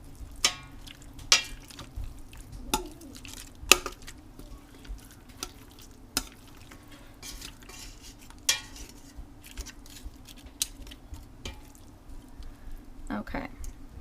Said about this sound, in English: I'm gonna toss it a little bit so it can get fully combined with all the flavors